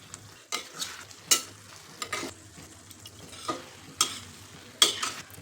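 Frozen peas and paneer stirred through vegetables frying for paneer biryani: repeated scraping, clattering strokes of a spoon in the pan over a soft sizzle, up close with no voices.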